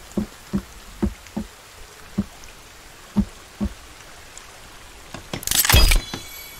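Rain in the survival video game The Forest falls as scattered single drops landing with soft, separate plops. Toward the end comes a brief louder splashing rush.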